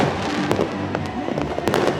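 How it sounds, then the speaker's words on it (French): Fireworks display in Abidjan, Côte d'Ivoire, for New Year, with sharp bangs and crackling bursts over a steady crowd rumble, loud and fairly distant, a few distinct cracks standing out. "pour assister au spectacle pyrotechnique organisé pour la première fois dans le cadre de Abidjan"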